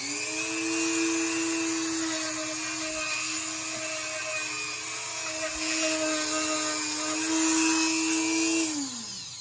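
An electric nail grinder files a dog's toenails, a close steady high-pitched whine that shifts pitch slightly as it presses on the nail and winds down at the end.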